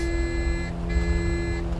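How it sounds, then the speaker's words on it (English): Steady electronic cockpit warning tone repeating in a SAAB 340 or ES-30 airliner in Microsoft Flight Simulator 2024, a continuous loud beeping with brief dips, alone without talk. "unpause it so I don't have to hear this beeping"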